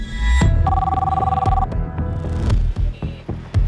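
A telephone ringing during a phone call, a loud electronic ring tone with a pulsing warble that plays for about a second, followed by a few dull knocks and thumps up close.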